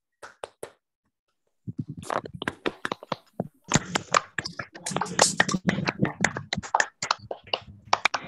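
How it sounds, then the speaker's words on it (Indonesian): A group of scout children in a Pramuka troop meeting claps the patterned scout clap, sharp rhythmic hand claps in quick bursts, fairly close, with voices mixed in. "Dua kali tepuk pramuka."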